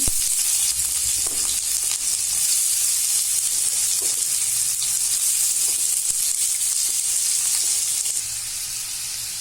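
Onions frying in two tablespoons of oil for ridge gourd palya, a loud, steady close sizzle with a bright hiss throughout, dropping slightly near the end.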